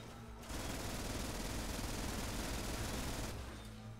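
Sustained rapid gunfire from a weapon in the game Cryptark, a dense, steady stream of shots that starts abruptly, holds for about three seconds and then cuts off, loud and close.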